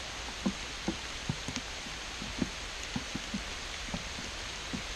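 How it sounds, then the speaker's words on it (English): Rain beginning to fall in a forest near cabin ruins, a soft steady hiss with scattered individual drops ticking on nearby surfaces at irregular intervals. "it's really starting to rain"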